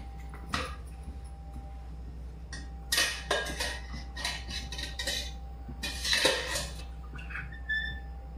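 A pan set down on a lit gas stove in a home kitchen, with clinks of metal cookware and utensils scattered across the stretch; the clatter comes close and moderately loud, with no talk.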